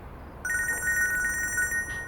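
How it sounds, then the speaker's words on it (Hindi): A mobile phone rings with a bright, repeating electronic ringtone that starts abruptly after a short pause, heard close and alone in a quiet room. "फोन बज रहा है तुम्हारा।"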